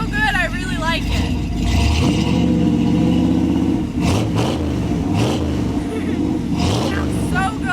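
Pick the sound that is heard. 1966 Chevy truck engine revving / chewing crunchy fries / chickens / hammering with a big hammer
1966 Chevy truck engine revving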